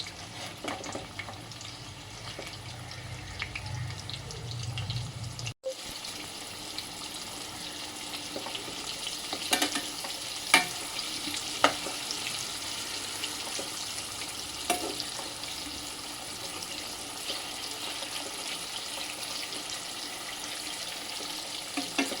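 Soya balls frying in hot oil and being turned over, a continuous quiet crackling sizzle with occasional sharp taps of a utensil against the pan, close by with no talking.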